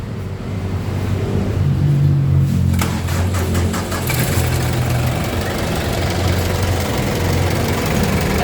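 A Mitsubishi Adventure engine idling with an abnormal noise, a steady close mechanical drone with a rough knocking edge that carries on without a break, no talk over it.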